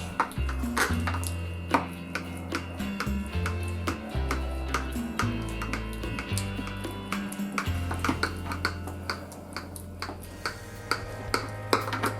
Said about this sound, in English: We're gonna cut this in parts, little parts.